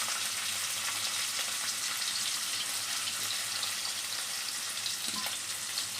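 Chopped onion and green chili sizzle steadily in hot oil in a wok, a dense, even crackling hiss that stays loud and constant throughout, with no voices.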